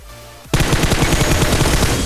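Automatic gunfire in a mobile battle royale video game: after half a second of quiet, a loud, rapid burst of shots starts abruptly and keeps firing in fast rhythm to the end.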